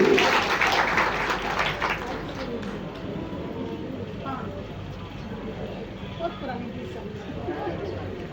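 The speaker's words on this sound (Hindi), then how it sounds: "आप जेपी सिंह जी के लिए सभी लोग तहे दिल से तालियां बजाएंगे" At a ceremony, the audience applauds JP Singh, with a burst of clapping loudest at the start and fading into crowd murmur and scattered claps, with voices talking underneath.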